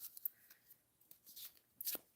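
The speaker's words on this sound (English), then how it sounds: "Let me shuffle some cards here." A deck of cards shuffled by hand at a table, giving soft riffling bursts and clicks at close range with quiet pauses in between, growing loudest near the end.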